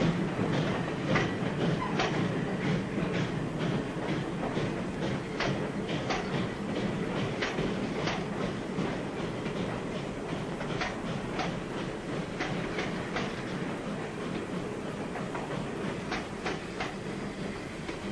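A train from a 1940 western clatters along its rails, with steady rhythmic clickety-clack of the wheels over the track joints, loud and close throughout.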